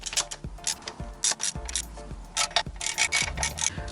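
A ratchet clicks in short repeated bursts while rear motor mount nuts on a Ford Fiesta ST are snugged up, close and fairly quiet, with small metallic knocks between strokes.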